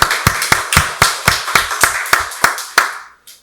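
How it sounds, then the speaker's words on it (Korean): A congregation at a Korean Sunday church service claps in unison, about a dozen crisp, evenly timed beats close by. The clapping stops abruptly, and one last faint tap follows. "박수로 하나님께 영광 돌리겠습니다."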